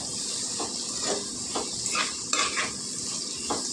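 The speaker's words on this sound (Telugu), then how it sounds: "వేస్తే ఉల్లిపాయలు బాగా కలుపుకుందాం" Onions with salt stirred in a pan for an egg masala curry, a steady frying sizzle under repeated scraping strokes of a spoon against the pan, close and fairly quiet.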